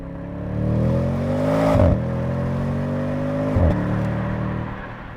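Revving 2023 Audi S8 V8 paired with a 48-volt hybrid system and eight-speed auto, a loud, close, throaty drone that swells and drops in pitch twice with brief gearshift breaks, no speech over it.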